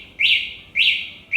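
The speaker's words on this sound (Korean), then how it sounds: "이 삑 소리가 난 다음에는 이 제품의 어떤 외부적인 충격이나" Anti-theft system of a Motovelo A10 Pro electric scooter giving three bright, identical chirping beeps in an even rhythm, close and loud, with no voices.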